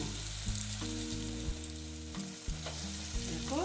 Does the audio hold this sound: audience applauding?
no